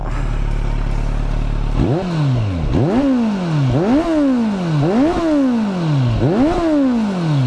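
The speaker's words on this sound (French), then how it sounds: "Écoutez un peu ce bruit au ralenti. Et si je mets des gaz." A 2017 Kawasaki Z900 motorcycle exhaust idles with a low steady rumble, then revs repeatedly, five rising and falling throttle blips in a regular rhythm, loud and close.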